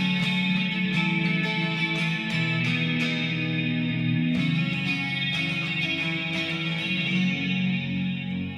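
Clean electric guitar tone with overdrive and tremolo switched off, capo on the neck, sustained chords ringing with a light strum and steady level.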